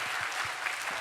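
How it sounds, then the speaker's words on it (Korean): Brief burst of dense clapping from a congregation at a late-night Friday church service, steady and fairly loud for about a second. "우리 친구들에게 박수"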